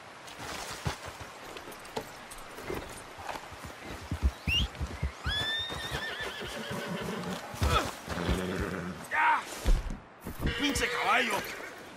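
A horse whinnies several times amid clip-clopping hooves in the Western video game Red Dead Redemption 2, close and loud, mixed with men's speech and game sounds.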